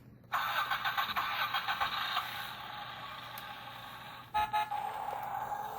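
A toy school bus sounds its electronic effect when its top is pressed: a bright, buzzy horn-like tone plays in pulsing bursts, pauses briefly, then starts again, close and alone.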